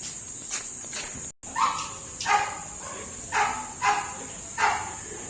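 A search dog sniffs luggage during a training drill, giving a close series of short, rhythmic sniffing bursts that repeat about five times.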